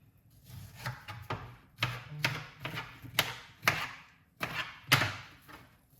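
A knife chops through pineapple on a cutting board in a series of firm, irregular thuds, close by with no talking.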